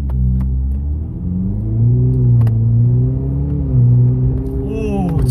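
A Ferrari engine hums and swells with deep, rumbling revs heard from inside the cabin, rising and falling in pitch at about 36 km/h.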